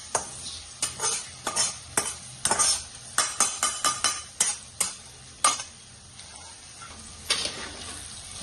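Roasted vermicelli tipped into a hot tempering of green chilli and cumin powder for upma, with a steady sizzle under repeated sharp scraping and clinking of a spoon stirring in the pan, close and clear.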